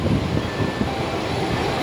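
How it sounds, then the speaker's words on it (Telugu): A passenger train running from Visakhapatnam to Delhi Nizamuddin gives a steady, close rumble of wheels and carriage noise, continuous and even throughout with no voices. "జస్ట్ ఇప్పుడే ట్రైన్ స్టార్ట్ అయింది వైజాగ్ నుంచి ఢిల్లీకి"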